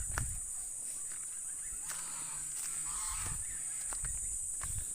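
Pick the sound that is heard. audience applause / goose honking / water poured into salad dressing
goose honking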